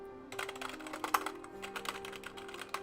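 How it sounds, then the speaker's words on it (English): Clicky keystrokes from an old non-mechanical computer keyboard, typed in an irregular quick burst at close range over a steady faint hum, with no voices. "It's a mechanical field keyboard, so it's not an actual mechanical keyboard."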